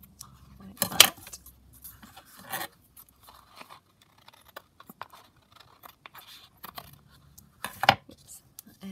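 Scissors snip off the excess paper edge of a ring bound journal in a craft session, a few crisp close cuts with quiet paper rustling and handling between them.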